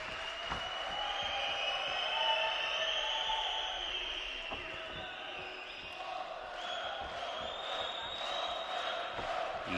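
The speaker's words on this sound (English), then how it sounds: "You can hear the cheer from the crowd." Crowd cheering and murmur fill an arena during a round of 16 amateur boxing bout at the 2011 AIBA World Boxing Championships in Baku, a steady broad roar with a commentator talking over it.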